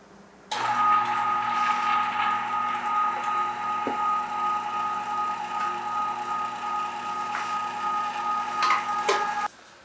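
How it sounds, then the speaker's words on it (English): An electric meat grinder grinds coarse-ground venison and pork fat for breakfast sausage, a loud steady motor drone with a tonal whine that starts abruptly and runs without pause, no talking. "I'm going to get back to grinding."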